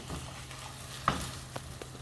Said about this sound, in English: I see my eggs are starting to sizzle a bit